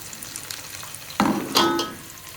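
Onion frying in a pan over low heat, with soft crackling sizzle and two sharper bursts of stirring or scraping partway through, fairly close and with no talk.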